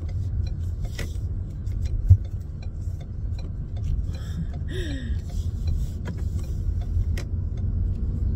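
A car being driven, with a steady low engine and road rumble throughout, a few faint ticks and a brief bump partway through.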